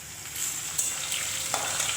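Curry leaves and chillies fry in hot oil as tempering for poha chivda, giving a steady close sizzle with a few brief crackling bursts.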